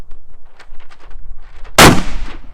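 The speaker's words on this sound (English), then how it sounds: "I'm gonna shoot for lower pelvis." A Mossberg Shockwave shotgun fires a single loud, close blast at a target, preceded by quieter handling noises and followed by a fading ring-out.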